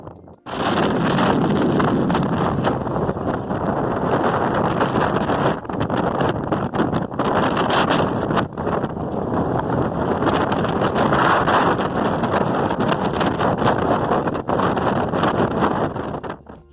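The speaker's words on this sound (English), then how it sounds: "It is windy as can be" Strong, continuous wind on the Pacific Crest Trail roars and buffets against the microphone, loud and unbroken throughout with gusty surges and no voices.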